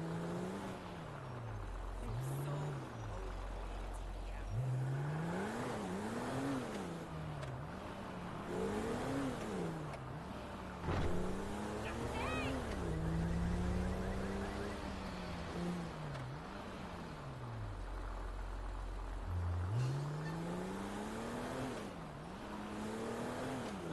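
Video-game car driven around a city block during a jewellery store heist mission, engine note rising and falling in repeated revving surges with shifts, steady and close throughout.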